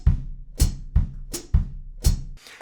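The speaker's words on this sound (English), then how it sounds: "The feet are playing that sort of classic New Orleans foot ostinato" Drum kit feet playing a classic New Orleans foot ostinato in a funky groove, with bass drum and hi-hat pedal strokes in a syncopated pattern, about six punchy hits close up and with no voices.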